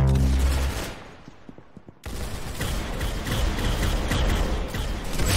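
Gunfire in the Roblox shooter Arsenal: a loud opening burst, a few sparse shots over a quieter stretch, then dense continuous rapid fire resuming abruptly and holding steady to the end.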